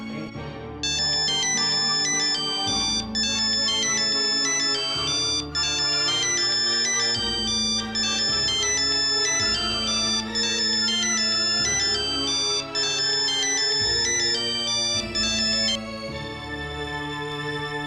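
An incoming call sets off a loud electronic phone ringtone that plays a repeating bright melody for about eighteen seconds, alone with no voices.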